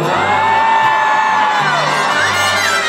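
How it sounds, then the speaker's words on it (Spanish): Women in a crowd shouting and whooping together at a mariachi performance, loud and sustained throughout, with no pauses. "¿Qué pasó con ese grito de las mujeres"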